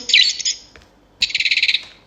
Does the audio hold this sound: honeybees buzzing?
no